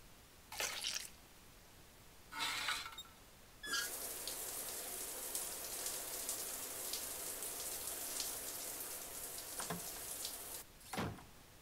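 Toilet water splashing in the South Park: The Stick of Truth video game, a sustained bright watery rush lasting several seconds, framed by short separate splashes before and after, with no talking.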